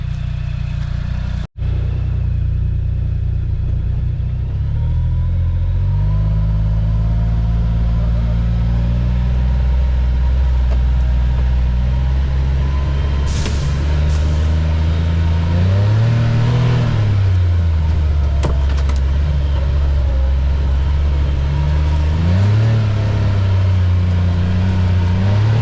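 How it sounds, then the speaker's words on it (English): A Chinese mini truck's engine drones loudly and continuously from inside the cab on a short ride, its pitch rising and falling several times as it accelerates and eases off, with no talking. "We'll go for a really quick ride to kind of close this video out."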